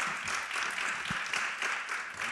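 A room full of people claps steadily for a couple of seconds, a dense, even patter of applause.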